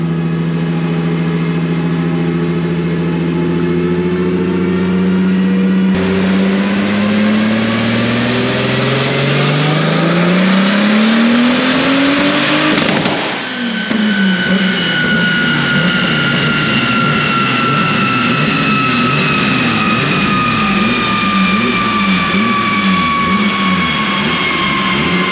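A turbocharged VR6 car engine, running on five cylinders with a fault, revs loudly through a dyno pull, its pitch climbing steadily, briefly dipping, then surging again as a sustained, roaring whine.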